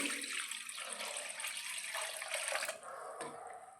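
About 1.5 litres of warm water pours steadily into a container for hand-washing a blanket, with a broad rushing splash, then eases off near the end; no voices.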